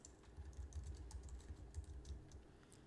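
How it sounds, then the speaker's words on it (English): Quick, uneven keystrokes clatter on a computer keyboard, a steady run of soft clicks against a low hum, with no one speaking. "So we're going to type AWS step functions"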